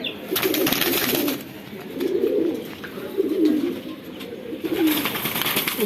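Khaki pigeons of an old bloodline coo in repeated low, throaty phrases, close by and loud, with short gaps between bursts and occasional faint rustling.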